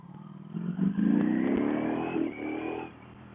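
A Ducati Panigale V4S four-cylinder motorcycle engine revs up from idle, its pitch climbing and holding in a rising, buzzing roar before dropping back, fairly close and alone without talk.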